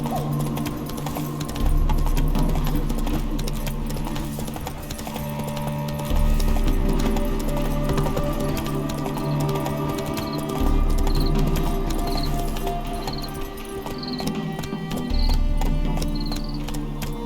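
Roach the horse galloping in The Witcher 3, hooves clip-clopping in a fast, steady rhythm close by over a continuous bed of game music and ambience, with periodic low swells throughout.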